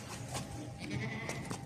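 A pregnant goat bleats on a farm, its short wavering calls repeating several times at moderate volume over low background noise, with no talk.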